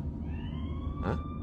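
A police car siren wails inside a stolen car in a Bollywood film scene, a rising electronic tone that climbs over a low engine rumble, with a brief harsher burst near the end of the short stretch.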